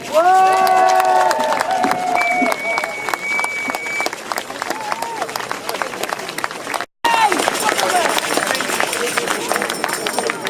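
An anti-austerity rally crowd in Manchester erupts in loud cheering and dense applause, with whoops and shouting voices rising above the clapping, sustained for several seconds before a brief dropout, then continuing.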